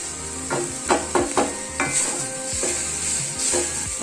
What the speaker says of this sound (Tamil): அதிலே பெருங்காயத்தூள் போட்டுட்டு 2 தக்காளி போட்டு நல்லா வதங்கணும்